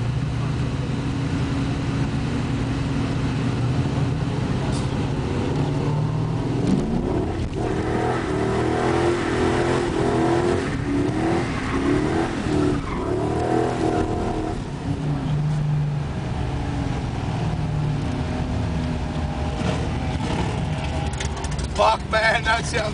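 A drift car at Easternats revs hard and skids along the front straight, its engine rising and falling in loud surges with tyre noise, while a crowd and voices murmur throughout.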